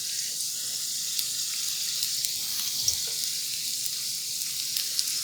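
Apple pie egg rolls frying in very hot oil, a steady close bubbling sizzle with faint occasional pops, holding evenly from start to finish.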